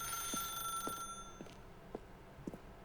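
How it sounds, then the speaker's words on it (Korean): A telephone in the video game The Stanley Parable rings with repeated short bell-like trills, about five evenly spaced rings at moderate volume over a faint electronic hum. "난 전화기 소리 듣고 무시하는 게 좀 약간 어색하다"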